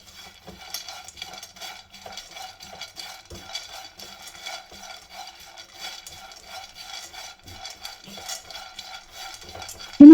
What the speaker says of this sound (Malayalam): ഇനിയിത് 3 മുതൽ 5 മിനിറ്റ് വരെ ഒന്ന് റോസ്റ്റ് ചെയ്തെടുക്കാം.